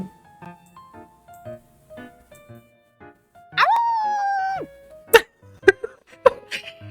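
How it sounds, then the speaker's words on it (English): A pet dog in the Love and Deepspace video game lets out a single drawn-out, tonal howl lasting about a second, flanked by short, quiet game sound effects and sparse clicks. "He's howling like a wolf."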